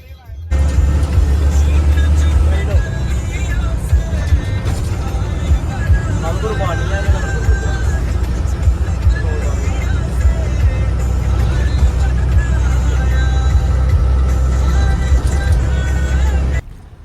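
Low, steady engine rumble of a bus on a road trip to Himachal Pradesh, continuous and fairly loud, with talking and passenger chatter over it.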